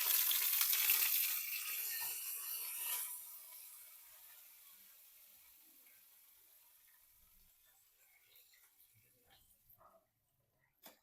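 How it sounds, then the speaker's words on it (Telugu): Hot tempering with chana dal is poured over yogurt vadas, giving a loud burst of bright sizzling for about three seconds that then fades into near silence, ending with a few faint clicks and a clatter. "తాలింపుని ఇందులో వేసేసుకోండి"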